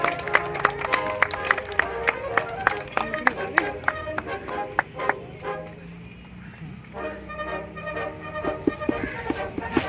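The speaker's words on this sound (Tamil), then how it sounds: "கரகோஷம் எழுப்பி வருக வருக என வரவேற்கிறோம்." Applause rises from an audience at a Pongal community celebration as a guest is welcomed, with scattered clapping and a crowd murmur over the first half before the clapping thins out under speech.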